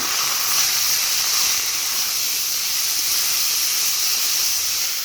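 Potato leaf greens hit a hot pan and hiss in a bright, continuous sizzle, close and steady from start to finish with no voices.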